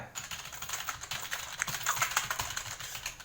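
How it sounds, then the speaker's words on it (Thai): Hard, fast typing on a cheap RGB gaming keyboard, a dense stream of close, clacky keystrokes with sharp individual hits and no talking. "เดี๋ยวเราจะเอา คีย์บอร์ด เราลองพิมพ์แรง กันดูไหม"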